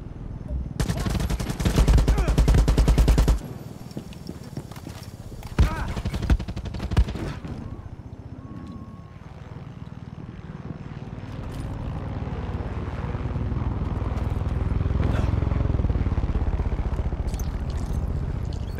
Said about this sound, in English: We've got to take the helicopter down